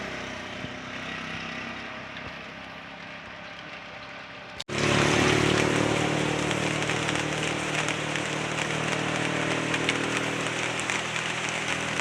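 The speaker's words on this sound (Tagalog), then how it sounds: "Ulan na siya." Rain falls as a steady broadband hiss, then suddenly becomes much louder and denser partway through and keeps pouring heavily without any talk.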